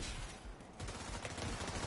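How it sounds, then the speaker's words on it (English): Rapid gunfire rattles in The Division 2 during a PvP fight, a dense, continuous burst of shots in a noisy game mix, fairly faint overall. "still getting shot in the back"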